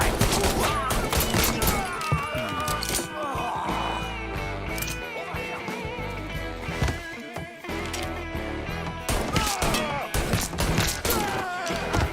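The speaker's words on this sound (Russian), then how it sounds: "Не, ну стрельба жесткая" Heavy gunfire in the Mafia 3 Definitive Edition video game: dense, continuous fusillade of shots with thuds, loud throughout with a game soundtrack underneath and occasional shouts.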